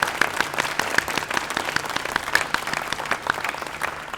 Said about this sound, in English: So we'll do a quick round of applause for our winners.